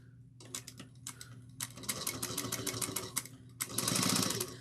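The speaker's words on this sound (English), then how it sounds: "I'm going to start off with a back stitch." A sewing machine back stitches at the start of a topstitched seam on a tote bag, giving a quick rapid clatter in short bursts with brief pauses, then a longer steady run at the end, fairly close and with no talking.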